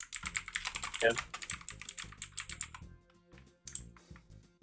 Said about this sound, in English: I hear a clicky keyboard.